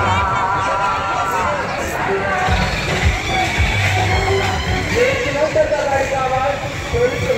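A dense crowd murmurs and bustles at the Mahalaxmi temple fair, with vehicles rumbling past, while a nearby voice speaks over the steady babble.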